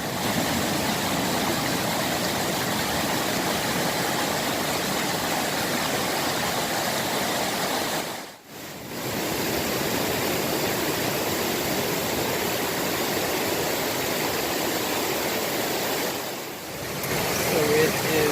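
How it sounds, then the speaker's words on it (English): A waterfall beside a campsite on the Appalachian Trail in the 100 Mile Wilderness, a loud, unbroken rush of falling water that fills the whole scene and dips only twice for a moment. "Don't know if you can hear me over the waterfall"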